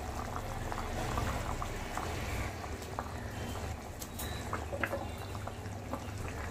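Rohu fish curry gravy bubbles in a pot, a soft, continuous simmering burble with occasional small pops and clinks at low, close level.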